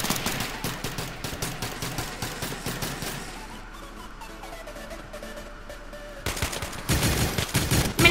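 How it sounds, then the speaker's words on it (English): A minigun fires in a Minecraft Hunger Games match with guns, in long rapid bursts of gunfire that pause briefly and then resume loudly. "Minigun."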